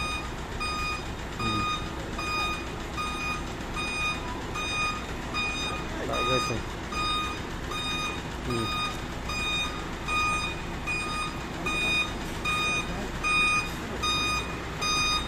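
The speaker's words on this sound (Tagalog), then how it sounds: "Ito yung malaking truck guys." A large truck reversing at a work site, its back-up alarm beeping in a steady, evenly spaced pattern over a constant engine rumble and broad background noise, with a brief spoken remark.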